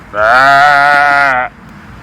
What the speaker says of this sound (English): Look guys, Alex has rounded up the sheep.